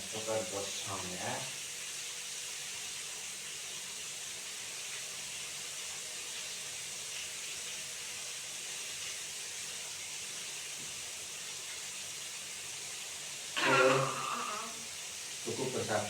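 Chicken pieces in batter deep-frying in hot oil for a crispy fried chicken recipe, a steady close hiss and sizzle lasting throughout, with brief bursts of clatter near the start and end.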